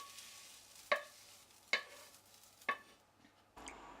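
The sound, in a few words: mixing sautéed salted mustard into minced pork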